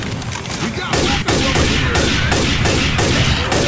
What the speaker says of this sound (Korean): 샷건 스킨 씌우니까 총소리가 너무 볼품 없어졌는데?